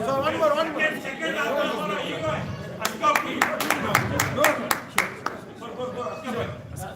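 Audience applause at a pre-launch ceremony in a hotel ballroom rises as a short run of sharp, close claps mixed with crowd chatter, while a host keeps talking over it.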